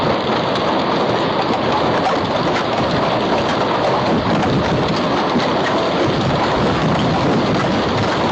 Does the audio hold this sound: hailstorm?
yes